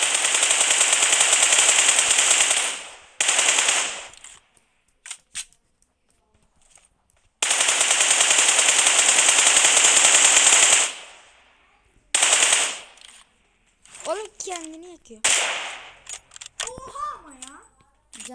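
Rapid bursts of automatic gunfire from a shooting video game, loud sustained volleys of several seconds each separated by short pauses, with players talking between them.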